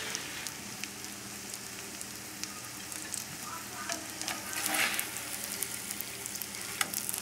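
Breaded chicken for chicken milanese sizzles and crackles steadily in a hot pan while browning, with small pops scattered throughout at a moderate, even level and no talking.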